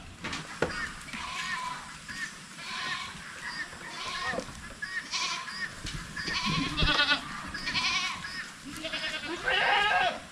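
Goats on a farm bleat in repeated, wavering cries, several calls scattered across the stretch at moderate distance over outdoor background noise, with no talk.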